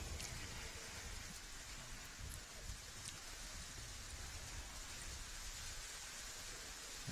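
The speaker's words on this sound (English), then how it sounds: "the rain does just intensify a little bit on the tin roof above us here at Cherry Street Sports." Rain drumming on a tin roof above a lawn bowls venue during a championship match, a steady dense hiss with scattered sharper drop impacts, close and continuous, no talking.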